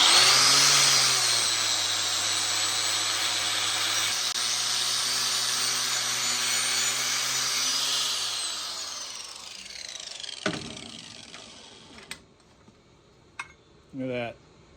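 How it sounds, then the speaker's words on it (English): A power wire wheel scrubs a 3 lb Kelly Perfect Jersey axe head with a loud, sustained motor whine for about eight seconds, then spins down, followed by a few scattered knocks and clanks. "All right, get this wire wheel going."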